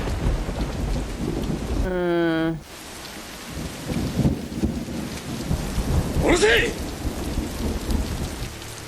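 Steady heavy rain with rumbling thunder from a scene in the film The Last Samurai, continuous and loud throughout, with a brief harsh tonal sweep near the start.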